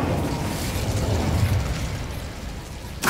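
Incendio fire spell in Hogwarts Legacy, a sustained roaring, crackling burst of flame with a low rumbling body that fades, followed by a sharp new burst at the very end.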